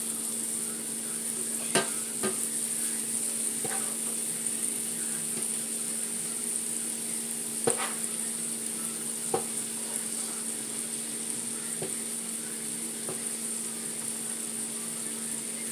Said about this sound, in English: They're sauteing down in that butter.